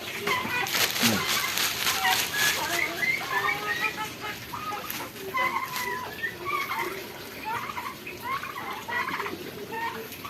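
Pet chickens being fed bread cluck and chatter busily close by, with soft pecking and scratching and some low background noise throughout.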